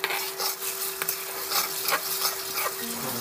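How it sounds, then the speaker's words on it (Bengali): Chilli, coriander leaves and cumin fry in hot oil for a beef fry, with a steady close sizzle and repeated spoon scrapes and knocks against the pan. "তো বেশ কিছু সময় এভাবে আমি মশলাগুলোকে ভেজে নিচ্ছি"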